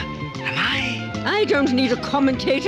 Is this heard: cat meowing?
yes